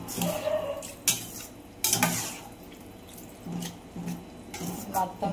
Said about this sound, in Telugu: తగినంత చింతపండు పులుసు కలిపి పెట్టుకున్నాను, పోసుకుంటున్నాను.